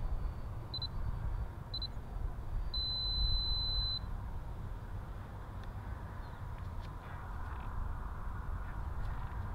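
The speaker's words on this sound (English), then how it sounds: "My timer's going off." Electronic timer beeping at an RC flying field during a model jet flight, two short beeps followed by a longer steady tone, fairly loud over a low background rumble.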